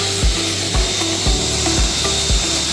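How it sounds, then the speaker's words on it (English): Close, loud, steady spray hiss from a power washer blasting mud off a dirty inflatable bounce house, with rhythmic low thumps about every half second. No voices are heard. "So first, we're gonna start by power washing all this gunk off."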